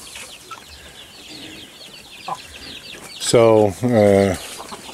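Chickens and young chicks in farm pens, with soft scattered clucks under a low background hum, then two loud, close, drawn-out squawking calls near the end, with a brief word spoken.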